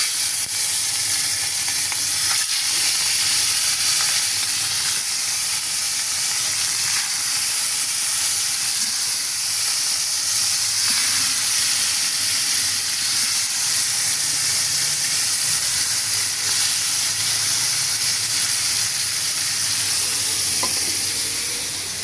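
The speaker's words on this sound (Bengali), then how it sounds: "তেল গরম হয়ে আসছে, তো আমি এখন মাছগুলো দিয়ে দিচ্ছি।" Fish rubbed with turmeric and salt frying in hot oil in a home kitchen pan, a steady loud dense sizzle and hiss lasting throughout, close and continuous with no voices.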